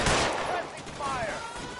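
Gunfire rattles in L.A. Noire, a dense burst of shots at the start followed by sustained noisy firing and echo, loud and close throughout.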